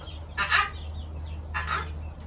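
Two short clucking calls from chickens outdoors, a short distance away, each a brief burst about a second apart over a low steady background hum.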